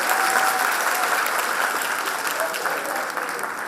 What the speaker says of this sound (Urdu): ایک بار تالیاں تو بتا دیجیے